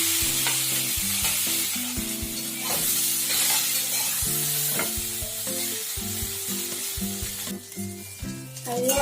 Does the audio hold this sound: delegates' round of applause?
no